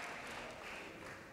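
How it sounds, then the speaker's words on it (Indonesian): An awards ceremony audience claps in a steady, dense wash of applause, fairly faint and distant, with no pauses. "Jadi tepuk tangan Bapak Ibu."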